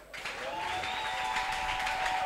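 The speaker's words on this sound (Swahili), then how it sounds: "Unapiga mikono." A church congregation claps hands in a dense, continuous burst of applause that starts abruptly and holds steady, with a sustained tone ringing underneath.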